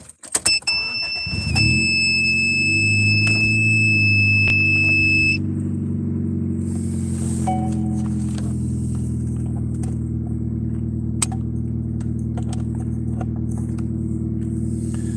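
Car engine starting with a brief crank, then settling into a steady low idle rumble up close, with a warning chime beeping at first and small clicks and rattles inside the car.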